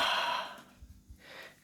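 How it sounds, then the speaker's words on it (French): A person breathes in and out during floor exercises: one long, audible, airy exhale followed by a short pause and another softer breath, close and quiet. "on inspire, on expire"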